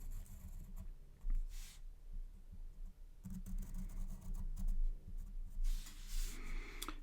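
A pen or pencil scratches and taps quietly across paper while music notation is written out by hand, with faint irregular strokes and brief pauses, heard alone without speech.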